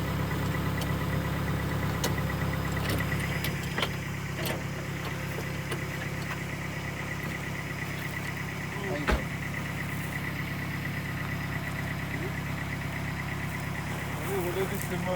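A vehicle with a small fault, a broken support blade dragging on the ground, idles at a farm site, a steady close engine hum with faint ticking and a few knocks over it.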